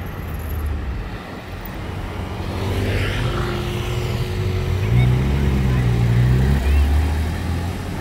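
An Aston Martin Vanquish S with its V12 passes on a Monaco street, the engine and exhaust swelling into a deep, rising drone that peaks and holds as it goes by, with people talking over it.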